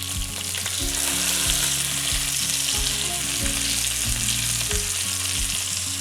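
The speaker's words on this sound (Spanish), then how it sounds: "se fríe nuestro pescado por un lado, cogemos la mantequilla y lo bañamos del otro lado también" Fish frying in butter in a pan, a loud steady sizzle and crackle that runs throughout with occasional low clunks of the pan, no voices.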